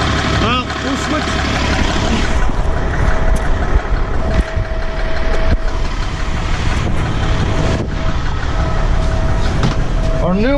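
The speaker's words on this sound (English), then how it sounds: "I think that's rod knock." A 6.7 Cummins diesel drag race truck engine running at the strip with a suspected rod knock, a loud continuous rumble with a faint repetitive tapping, while people talk over it.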